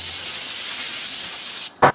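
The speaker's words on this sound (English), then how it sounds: "go ahead and then spray the top of that" Steady aerosol spray adhesive hisses continuously for almost two seconds onto foam pipe insulation for a boffer sword, then cuts off, followed by a brief louder burst.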